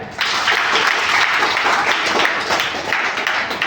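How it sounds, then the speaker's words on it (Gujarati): Children at a school science quiz break into loud, dense applause that holds throughout, with many hands clapping together close by. "છોકરાઓ જોરદાર તાળીઓ થઈ જાય"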